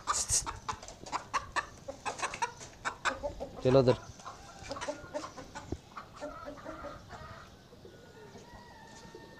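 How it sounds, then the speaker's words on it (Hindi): Roosters fight in a backyard, giving repeated clucks and squawks and a burst of wing flapping in the middle, with pigeons nearby. Calls come close and loud, then settle into quieter clucking, and someone speaks briefly. "मुर्गे जब झगड़ा करते हैं"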